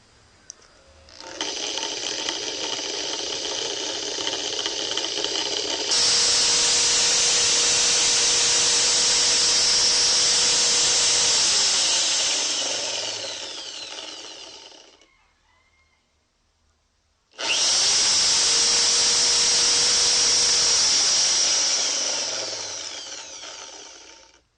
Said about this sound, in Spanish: cuando se le aplican revoluciones con el taladro